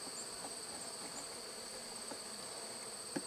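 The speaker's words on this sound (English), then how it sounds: "Bees don't care for it much. I don't know if you can hear them. They're getting a little irritated with me." Irritated honeybees inside an opened modified Warre hive during an inspection give off a steady, fairly faint insect drone with a few brief clicks and knocks near the end.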